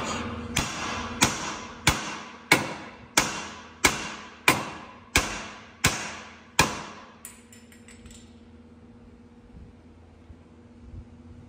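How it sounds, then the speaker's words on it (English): About ten loud, evenly spaced metallic hammer blows ringing against a BMW E36/E46 suspension part during an angle kit install, each with a short decay, then quiet with a faint hum. "he's going to take a hammer and bust the broad right off"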